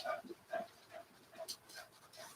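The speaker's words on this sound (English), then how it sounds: "Oh, the dogs are excited." Dogs, worked up after their dinner, give a series of short excited whimpers and yelps mixed with panting, repeating at a quick uneven rhythm, fairly close but moderate in level, indoors.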